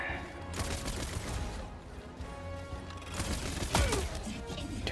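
A few sharp gunshots go off in the video game Helldivers 2 during armor damage testing, moderately loud cracks over background noise with a whooshing sweep near the end.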